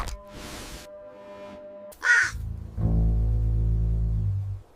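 A crow gives a brief harsh caw over a low musical hum, followed by a sustained deep throbbing tone.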